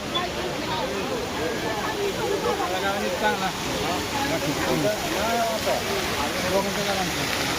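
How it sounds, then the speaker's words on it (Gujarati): Water cascades steadily down the artificial Govardhan hill display at Prem Mandir temple, a continuous broadband rush with a crowd murmuring faintly underneath. "તમે જોઈ રહ્યા છો પાણી ઉપરથી પડે છે."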